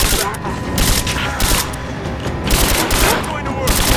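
Rapid bursts of gunfire crackle and boom in Rise of the Tomb Raider's Baba Yaga DLC, loud and dense with repeated shots and impacts over a rumbling combat backdrop, with voices mixed in.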